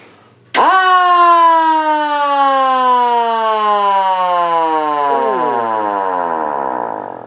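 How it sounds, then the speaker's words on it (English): A 12-volt starter-motor-driven mechanical siren on a Jeep suddenly winds up to a loud, piercing wail, then slowly sinks in pitch as it spins down, all alone. "this little Jeep here has got a kind of a different siren on there"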